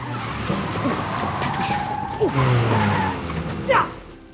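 A car is moved recklessly, its tires squealing in short bursts near the middle and end over a busy street-like background with engine noise and voices.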